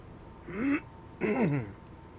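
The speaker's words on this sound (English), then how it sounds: "I've been talking too much and now I can't stop coughing" Two rough, voiced throat-clearing coughs from a person, close and fairly loud, separated by a short pause.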